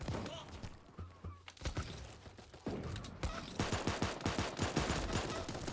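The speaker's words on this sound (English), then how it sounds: "go ahead and rock on in with the dual pistols and try to get as much damage as we can get" Rapid bursts of dual pistol fire in the animal battle royale game Super Animal Royale, crisp repeated shots in quick clusters with brief gaps, loud and close.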